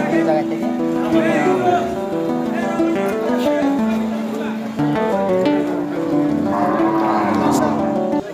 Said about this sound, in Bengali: বাজারে এখন এখনো গরু কিন্তু আসতেছে